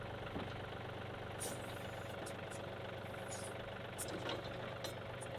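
A tractor engine runs at a steady idle-like drone while its boom pushes down to lift the machine, with a few faint knocks and clanks over the continuous low rumble.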